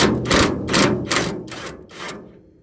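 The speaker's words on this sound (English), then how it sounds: "Let's see if the old impact can break some of these bolts free." An impact wrench rattles against rusty bolts on an old Studebaker, giving six sharp hammering bursts in a quick rhythm that fade out, heard close and loud.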